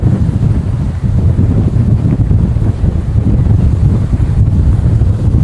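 Strong 60 km/h wind at Pannai Beach in Jaffna buffets the microphone, a continuous loud low rumble with gusty fluctuations and a faint wash of surf beneath, with no voices.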